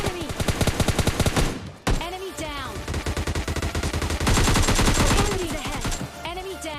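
Rapid automatic gunfire from the mobile shooter game PUBG Mobile Lite, loud close bursts of repeated shots with a brief gap, then more sustained firing that continues to the end.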